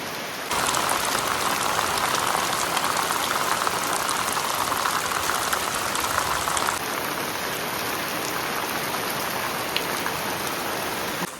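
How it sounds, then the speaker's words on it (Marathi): Dense, steady downpour of heavy monsoon rain in Konkan hissing continuously across the whole stretch, loud and close, with no voices. "जोराची सर आली आहे."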